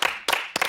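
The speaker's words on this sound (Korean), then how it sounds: "자, 박수 한번 놔주세요." A studio audience on a Korean talk show breaks into applause, heard as two quick, loud bursts of hand clapping in under a second.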